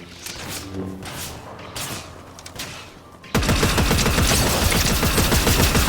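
Gunfire in the Fortnite video game: scattered shots and thumps at first, then a dense, unbroken burst of rapid fire filling the rest, loud and close, with a voice briefly audible early on.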